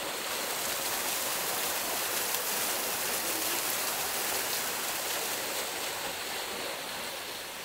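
A waterfall at Ninh Binh, Vietnam, pours as a dense, constant broadband rush of falling water, loud and steady throughout with no voices.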